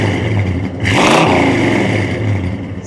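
A 1970 Plymouth Superbird barn find, parked since 1975 and running again, idling with a loud rumbling V8 and then revved once in a sharp, roaring burst that settles back to a lumpy idle nearby.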